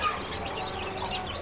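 Tiger breed chickens cluck softly in a farm setting, a faint, steady murmur of overlapping clucks and chirps without distinct loud calls.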